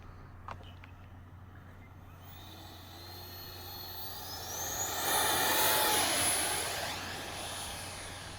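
A Hobbyking F/18 electric ducted fan RC jet spooling up and being hand-launched, its whine climbing steeply in pitch into a loud rushing roar that peaks and then fades slightly as it flies off.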